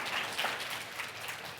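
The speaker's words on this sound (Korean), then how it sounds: "일단은 큰 박수 해주시기 바랍니다" A student audience claps for a team's public presentation, a steady burst of applause filling the room throughout.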